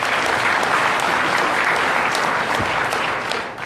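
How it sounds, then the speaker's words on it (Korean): Steady, dense audience applause fills the room, loud and continuous throughout, with no talking over it, fading slightly near the end. "박수 한번 주세요"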